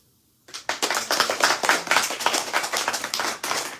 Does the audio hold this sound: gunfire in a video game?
no